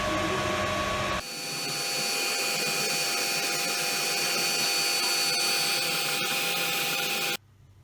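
A 3D printer working on a battery case for a Makita CPAP setup gives off a steady mechanical whir with high tonal whines. It runs continuously and fairly loud, then cuts off abruptly near the end.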